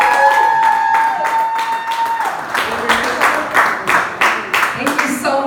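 A comedy club audience applauding as a comedian takes the stage, rhythmic clapping with light cheering over a fading musical tone, close and fairly loud.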